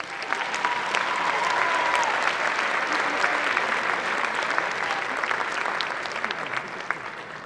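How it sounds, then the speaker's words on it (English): Sustained applause from a school band concert audience at a winter performance, a dense steady wash of many hands clapping that holds for several seconds before gradually thinning, with a few louder individual claps and faint crowd murmur. "give them another round of applause"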